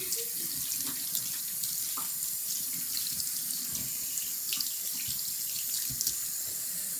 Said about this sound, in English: I guess we're gonna wash our hands with this now.